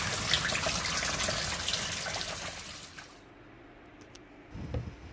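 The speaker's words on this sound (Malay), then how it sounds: "kita masukkan air dulu untuk kita lihat dan kita cuba adakah air dapat keluar ataupun tidak." Water pours into the drum of a manual Panasonic washing machine under repair for a drain fault, a steady gushing splash for about three seconds that then eases to a quieter trickle, with a brief louder splash near the end.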